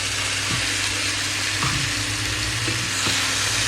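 Tomato and onion fry with pieces of fried fish in a pan, giving a constant close sizzle under a steady background hum, with a few soft stirring knocks and no talking.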